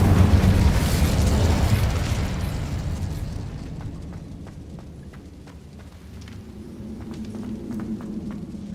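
Fiery whoosh of the Incendio fire spell in Hogwarts Legacy on PC, a loud roaring burst that swells at once and slowly dies down into softer crackling and rumble.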